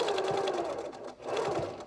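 A sewing machine runs back and forth over the over-the-ear elastic strap on a pleated fabric face mask. Its close, steady motor whir and rapid needle chatter dip briefly at mid-point, then resume, with no talking.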